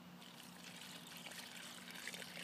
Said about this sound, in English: so I'm just filling it up with some water